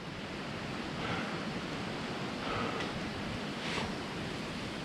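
Strong wind roars continuously in broadband gusts, swelling a few times, with no voices.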